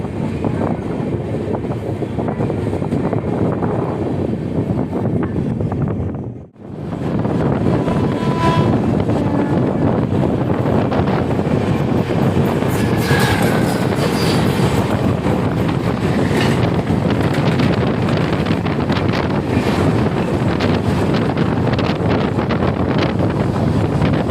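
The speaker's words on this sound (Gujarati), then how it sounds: "આપણી ટ્રેનની સ્પીડ પકડી લીધી છે આપણી ટ્રેને જે મેક્સિમમ સ્પીડ એકસો ને દસ કિલોમીટર પ્રતિ કલાકે ચાલે છે" The Intercity SF Express between Jamnagar and Vadodara runs at speed, near its 110 km/h top speed, making a loud, continuous rushing roar with wind buffeting and a brief dip partway through.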